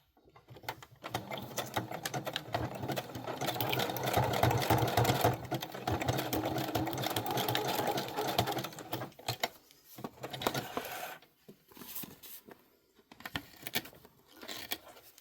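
A sewing machine stitches through a paper junk journal, a rapid mechanical rattling run that stops and restarts in short bursts, close and clear, with no talking.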